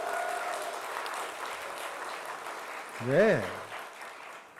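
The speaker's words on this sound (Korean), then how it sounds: "박수 한번 해주시고." A church congregation at a Sunday morning service claps in a soft, continuous patter, and a single voice briefly speaks over it partway through.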